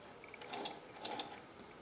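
A Sturmey Archer hub sprocket turns on its ratchet, giving a few quiet, close metallic clicks spaced in two pairs against a faint background.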